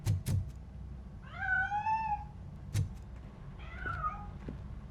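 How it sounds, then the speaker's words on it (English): A cat meows twice in the Robocop: Rogue City video game, with long, rising-then-falling mews spaced a couple of seconds apart. Sharp knocks sound near the start and again midway, all over a quiet background. "That cat must be hiding inside."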